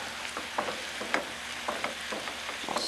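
Chili made with milk being stirred in a sizzling pot, a steady frying hiss broken by repeated scraping strokes of a spoon at an uneven rhythm, close and fairly quiet, with no talking.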